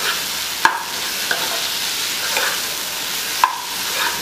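Fried fish stirred into sizzling curry in a pan: a steady soft sizzle with a few sharp spoon clinks against the pan, close and without talk.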